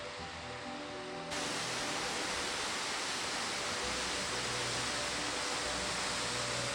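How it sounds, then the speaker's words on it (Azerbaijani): The Pəzməri waterfall roars in a steady, loud, unbroken rush of water beneath a rock overhang, with the sound swelling fuller after the first second and then staying constant. "Möhtəşəm şəlalə"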